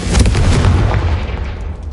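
A single loud, close Confringo spell explosion in Hogwarts Legacy bursts with a deep boom at once, then rumbles and fades away over about two seconds.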